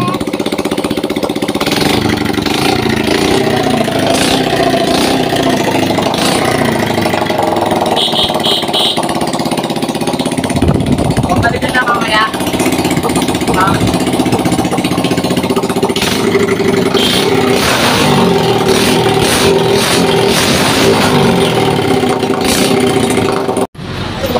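A freshly started engine runs continuously with a rough, rapid, hammering idle, loud and close for the whole stretch, with a brief cut near the end.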